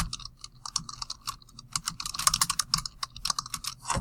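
Fast, irregular clicking of keys on a computer keyboard as a title is typed, with close, crisp keystrokes in quick bursts and short pauses and no voices.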